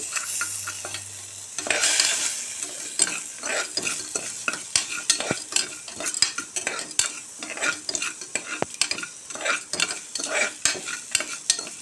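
Ginger sautés in a pan over a low flame for ginger chutney, with a soft sizzle beneath rapid, repeated spoon scrapes and clinks against the metal, close and clear with no talking.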